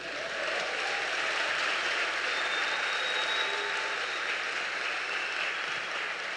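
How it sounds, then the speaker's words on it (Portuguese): Congregation applauding during a Portuguese-language church worship service, a dense steady wash of clapping that fills the space throughout without a break. "Dá um aplauso aí para o Senhor."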